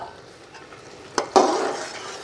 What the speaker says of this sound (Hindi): अब 1 मिनट सिर्फ मैं आलू को भून लूँगी।